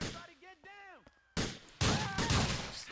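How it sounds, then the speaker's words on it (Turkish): Gunfire in the video game GTA 4 comes as loud, dense bursts of shots in the second half, after a stretch of quieter game sounds and tonal effects. "Hah vurdum. Koy mermi koy Niko."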